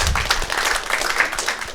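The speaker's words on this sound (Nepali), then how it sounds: "बुझ्ने दर्शक हुनुहुँदो आफ्नो लागि पनि ताली बजाउनु एकचोटि।" Clapping from a stand-up comedy audience, a short burst of applause that holds steady throughout, with some speech over it.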